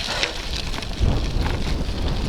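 Strong seaside wind buffets the microphone in rough, uneven gusts, with sand and small pebbles being blown about. The rumbling bursts grow heavier partway through.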